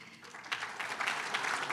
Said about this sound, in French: Ah, les applaudissements.